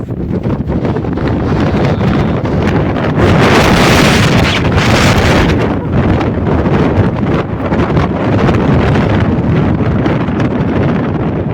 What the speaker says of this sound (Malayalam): അതേപോലെ നല്ല കാറ്റടിക്കുന്നുണ്ട്